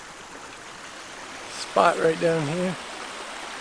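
A small riffle of stream water flows over rocks, making a soft, steady burble in the background while a person speaks briefly over it.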